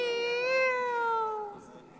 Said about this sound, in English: Rene watches the opera singer, Song Lilin, perform